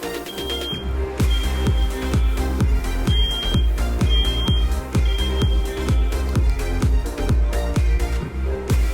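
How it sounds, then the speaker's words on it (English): An electronic alarm beeps in a fast regular pulse near a sound-activated LED disco ball, each loud tone repeating at a steady rhythm that continues throughout. "That's one of my alarms."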